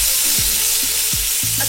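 Steak sizzles steadily in butter in a hot pan, a loud, continuous close-up frying hiss with a few soft clinks of utensils.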